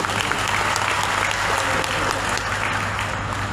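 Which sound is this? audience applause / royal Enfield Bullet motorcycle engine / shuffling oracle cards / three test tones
audience applause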